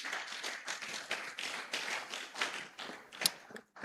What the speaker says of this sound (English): Please, let's appreciate them with a round of applause.